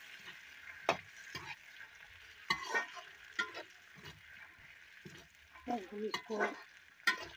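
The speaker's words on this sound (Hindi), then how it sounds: "मटर को हम डाल के इस तरह से चलाते रहेंगे, तो हमारा मटर अच्छी तरह से पक जाएगा।" Peas stirred in a hot frying pan with a utensil, giving repeated scraping strokes over a steady sizzle, close and moderately loud, with a few spoken words in Hindi.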